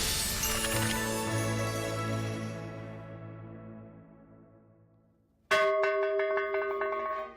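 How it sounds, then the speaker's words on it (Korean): A bell rings at lunchtime in Eumseong, North Chungcheong Province: one resonant strike decays slowly over several seconds, then a second loud clang sounds near the end, alone without voices. "점심시간! 잠시 쉼표를 찍어주는 반가운 종소리를 따라간 곳."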